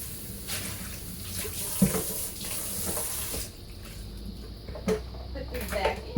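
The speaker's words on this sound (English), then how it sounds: "So I'm going to rinse this bowl." A bowl of sprouts is rinsed under a running kitchen tap: a steady rush of water for about three and a half seconds, then it stops, leaving sparse clinks and knocks of the bowl being handled up close.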